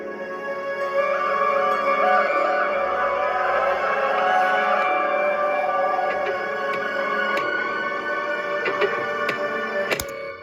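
A layered synth title-screen theme for the game Endless Labyrinth, with sustained pads and melodic tones, plays steadily at full volume, ending with a sharp bright hit near the close.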